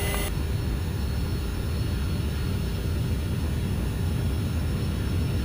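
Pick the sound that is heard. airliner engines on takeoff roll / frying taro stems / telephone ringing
airliner engines on takeoff roll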